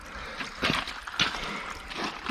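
Spring water trickles and drips from a pipe at an off-grid homestead spring in Alaska, making a close, uneven gurgling patter with a few louder splashes and no talking.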